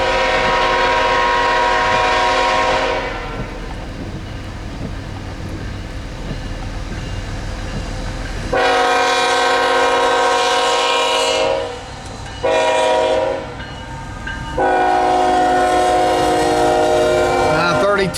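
A CN freight train rolling eastbound through Battle Creek, Michigan sounds several loud, sustained horn blasts over the rumble of passing cars, with short gaps between the blows.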